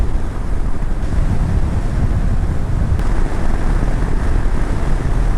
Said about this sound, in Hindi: क्या ठंडा हवा बह रहा है